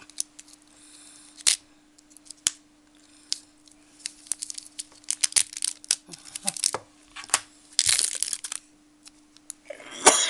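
Sharp, irregular snips and crinkly clicks of scissors cutting through packaging, close up, over a faint steady hum.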